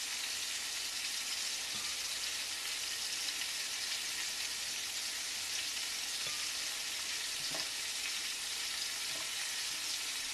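Meat browning in a pot gives off a dense, even, continuous sizzle at moderate volume, with a few faint pops and ticks scattered through it and no talking.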